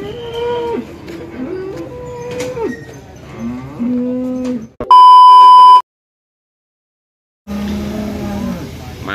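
A large Limousin bull lowing in a series of deep, drawn-out moos at a cattle market, loud and close, interrupted midway by a long electronic beep, then a final moo after a short silence.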